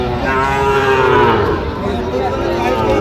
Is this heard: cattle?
yes